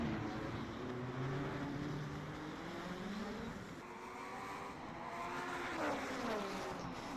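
Race car engines in a 1988 French Grand Prix racing video game, a continuous engine drone with rising and falling pitch sweeps as the cars accelerate and shift, moderately loud and unbroken.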